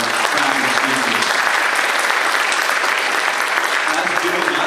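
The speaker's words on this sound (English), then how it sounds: "How about a round of applause for our track and speakers?" An audience at a school board meeting applauds a middle and high school trap and skeet team with loud, dense, steady clapping that fills the room without pause.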